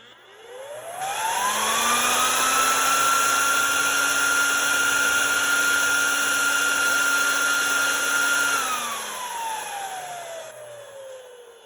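A 3D printed hand dryer with LiDAR sensing spins up with a rising whine, holds a loud steady roaring blast of air for several seconds, then winds down with a falling pitch, close and without talk.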